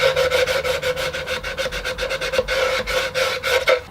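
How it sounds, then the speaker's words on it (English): Sandpaper rasps back and forth over plywood by hand in quick, regular strokes, close and fairly loud, with no talking. "Be careful when you're sanding plywood."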